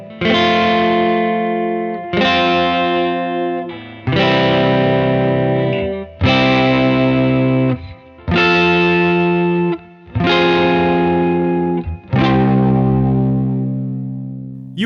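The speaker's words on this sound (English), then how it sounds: "On the second repeat, I'll switch to bar chords and arrange them in such a way that there is a rising up in pitch" A distorted electric guitar with chorus and reverb plays a chord progression in barre chords, seven sustained strums about two seconds apart, each chord shifting and rising in pitch, loud and alone.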